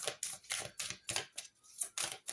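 Cards laid down one at a time on a table, producing a steady series of crisp slaps and snaps, about eight in quick rhythm, close and clear.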